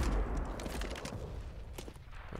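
Scattered gunshots and bursts of gunfire in Counter-Strike on the Inferno map, fairly loud and continuous, with some footstep-like shuffling and no clear speech.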